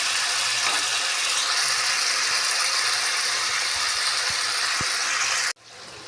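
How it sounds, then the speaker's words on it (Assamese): A gas stove knob turned down under a pan of cooking pigeon meat: a steady loud flame hiss with a few small clicks, then a sudden drop to a much quieter hiss near the end. "গেছৰ ফ্লেমটো এতিয়া একেবাৰে কমাই দিম।"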